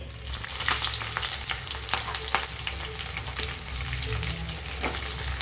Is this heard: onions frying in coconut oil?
yes